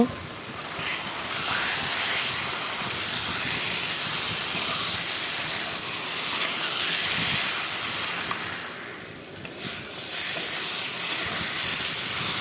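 Potatoes cook in a pan with a spice paste, producing a steady, dense hiss and sizzle that swells and dips in level over several seconds, close and continuous.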